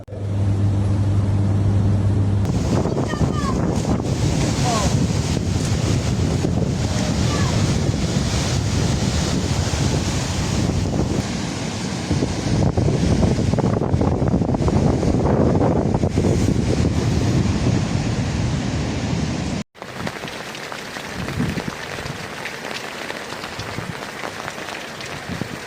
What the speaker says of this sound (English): waves have already reached the coast